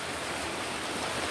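Swollen river water rushing after days of unusually heavy rain, a steady full broadband roar with no pauses, heard up close throughout.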